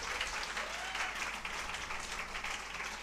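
A church congregation at a Palm Sunday service claps for two women, a dense, even wash of applause that holds steady for a few seconds at moderate distance.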